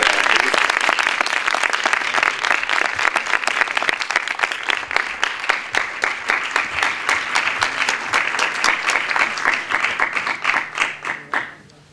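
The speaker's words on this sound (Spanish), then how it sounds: "Un fuerte aplauso para ella" Loud, steady applause from an audience at a fantasy film festival awards ceremony in Torremolinos, greeting a short film prize winner, dense clapping that swells and then tapers off at the end.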